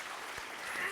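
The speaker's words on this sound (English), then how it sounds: "Let's please have a round of applause for our panel." Audience applause for a panel at a breakfast event, a short steady wash of clapping with no pause.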